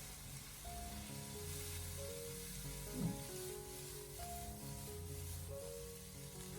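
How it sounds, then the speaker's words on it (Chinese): Cauliflower stir-fries over high heat in a wok, a faint continuous sizzling hiss with one brief stirring clatter near the middle, under steady background music. "把它快速的翻炒1到2分钟，把所有食材翻炒至成熟"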